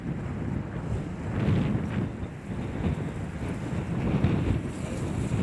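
Wind blowing across an outdoor disc golf course during a tournament, buffeting the microphone with a steady low rumble and gusty swells, no speech.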